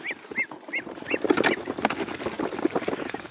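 Several ducks quack nearby in quick, overlapping bursts, with soft shuffling and pattering underneath.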